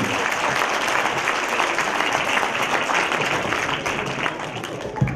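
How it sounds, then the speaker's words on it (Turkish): Sustained applause from a theater audience as the stage curtain slowly opens for children about to recite hadith at a Quran course graduation ceremony, steady dense clapping filling the whole stretch. "Kuvvetli bir alkışla perdemiz onlar için açılıyor"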